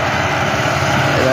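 A tractor engine drones loud and close during a potato harvest in Sinaloa, a steady rumbling mechanical roar with no break.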